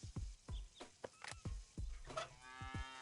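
A lonesome bull in the Deponia adventure game lets out a series of deep mooing bellows, several short cartoonish calls in quick succession, close and clear with no talk over them.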